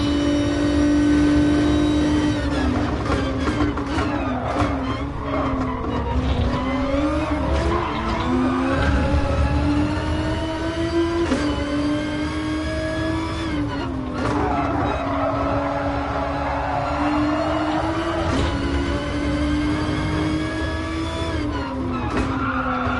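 A race car at Monza in Gran Turismo Sport roars loudly and continuously, its engine pitch rising and dropping through gear changes, with tires squealing at moments as it understeers through corners.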